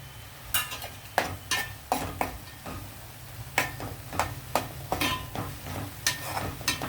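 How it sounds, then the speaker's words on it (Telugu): Onion paste with salt and chili frying in a pan for an Andhra-style fish curry, with sizzling under a steady stream of sharp scraping stirs against the pan at an irregular rhythm. "ఈ ఉల్లిపాయ ముద్ద ఈ ఉప్పు కారంలో కొంచెం వేగనిద్దామండి మగ్గనిద్దాము"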